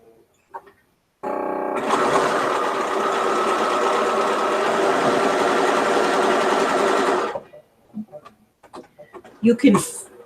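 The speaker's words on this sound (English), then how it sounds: "You can chain sew them, but I'm just doing one just to show you." A sewing machine chain-sews blue-seamed quilt units for a mystery quilt, a steady close whirring run of about six seconds that stops abruptly, followed by faint handling noises and a brief voice.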